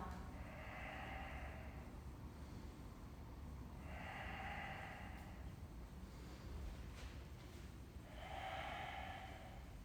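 Slow, deep yoga breathing during a vinyasa practice, with three long, faint, breathy exhales spaced evenly a few seconds apart over a quiet background.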